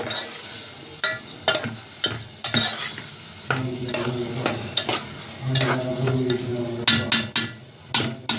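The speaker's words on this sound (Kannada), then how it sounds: "ನೋಡ್ರಿ, ಈಗ ಅದು ಒಗ್ಗರಣೆ ಒಳಗೆ ಹುರ್ಕೋತಾರ." Oil sizzles steadily in a hot pan as ingredients fry in a tempering, while a spoon stirs and scrapes, with sharp clinks of metal against the pan throughout.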